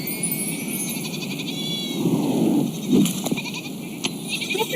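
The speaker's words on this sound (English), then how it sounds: "I found some cute goats." Goats bleat in a video game scene, a few soft, close calls rising over a steady ambient hum and faint tonal background, with brief low bursts standing out midway through.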